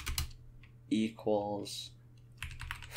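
Computer keyboard keys click in short scattered bursts while code is typed, close and fairly quiet, interleaved with someone speaking.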